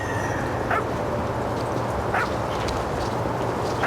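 A dog in What Remains of Edith Finch gives three short, moderately loud yips spaced about a second and a half apart over a steady background hum.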